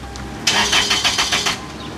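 A car engine being started with the key: brief starter cranking pulses catch into a loud, close engine running, with no talking.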